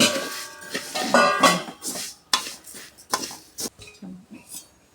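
Half a kilo of cumin seeds tipped into a pan for roasting makes a string of close clattering, clinking bursts of seeds and utensils against the metal, irregular and moderately loud.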